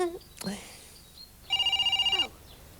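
A telephone rings with a rapid trilling electronic bell, one burst lasting under a second, loud and close, after a brief voice and some short tones earlier.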